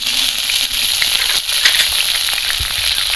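Slit green chillies sizzle in hot oil in a wok (kadai): a continuous, bright frying hiss with scattered sharp pops and crackles, steady and close with no talking.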